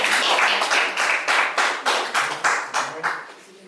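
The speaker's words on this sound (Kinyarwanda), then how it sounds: "Amashyi menshi." A small gathering claps at a civil wedding ceremony in Rwanda, steady rhythmic hand claps ringing out close by for a few seconds before tapering off.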